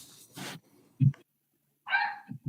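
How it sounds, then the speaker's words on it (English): A small dog yaps a few times at close range, short sharp barks separated by brief silences. "Can you hear my dog?"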